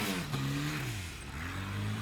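A Nissan-powered off-road 4x4 truck at an extreme 4x4 challenge event revs its engine, the pitch rising and falling in a few quick surges, moderately distant over crowd and outdoor noise.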